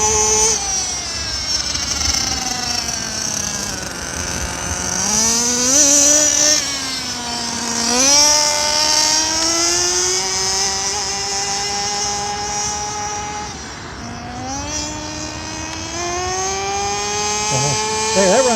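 An HSP Lacerea 94763 1/8 scale nitro RC car on a speed run makes a high, buzzing two-stroke engine whine. It climbs and falls in pitch as it accelerates, passes and revs again, loud and continuous throughout.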